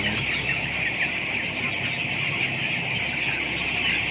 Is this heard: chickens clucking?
yes